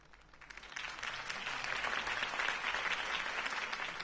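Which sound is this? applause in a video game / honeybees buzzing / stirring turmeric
applause in a video game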